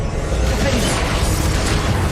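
Confringo fire spell blasts in Hogwarts Legacy, a dense, continuous roaring explosion that fills the whole moment at steady loudness, with faint voice sounds mixed in.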